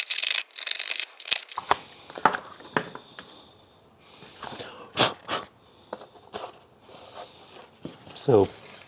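Knife or blade cutting a hole in a piece of cardboard during exhaust fabrication for a Honda CBR/VFR 800, heard as close, irregular scraping and tearing strokes with sharp crinkles and taps, no talk.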